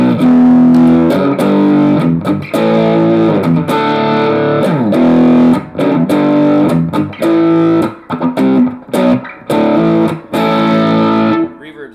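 Distorted electric guitar through a crunch amp model on a Positive Grid Spark amp, with a crunchy, driven tone, plays chords and riffs continuously, loud and close, with brief pauses between phrases.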